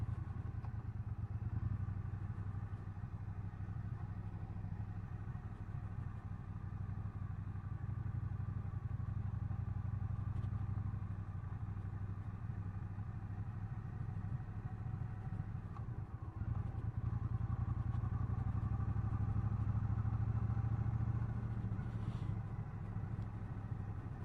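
A Triumph Bobber Black 1200 motorcycle rides along gritty back roads, its engine giving a steady, loud, low rumble throughout with a slight swell in intensity toward the end.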